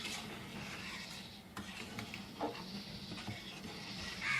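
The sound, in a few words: stirring shrimp and maskalai dal in a pot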